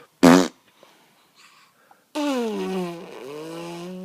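A person blows a short, loud, buzzing raspberry with the mouth imitating a fart, followed after a pause by a long sustained voiced tone.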